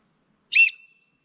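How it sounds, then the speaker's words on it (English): A cheap plastic survival-kit whistle gives one short, shrill blast that tails off into a thin fading tone, heard alone against silence. "The whistle."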